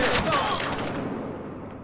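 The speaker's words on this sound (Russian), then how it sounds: "По нам открыли мощный огонь!" Heavy sustained gunfire in the shooter game Battlefield Hardline, a dense continuous barrage of rapid shots and blasts with a voice speaking over it, loud and close, fading slightly toward the end.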